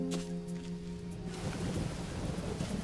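Rain and thunder in the jungle survival game Green Hell, a steady dense wash of rainfall with a low rumbling roll of thunder underneath, continuous and fairly loud throughout, no voices.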